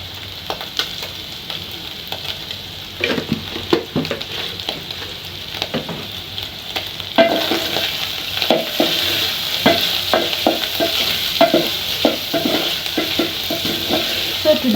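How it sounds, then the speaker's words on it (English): Beef stew with onions and tomatoes frying in a pan, a continuous loud sizzle broken by repeated scraping stirs of a utensil against the pan, with no voices. "So today I'm going to fry with onions and tomatoes only."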